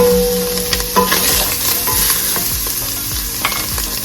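Sausage frying in olive oil in a pan, with a loud, close, constant sizzle and repeated scraping and tapping of a utensil against the pan, and no voices.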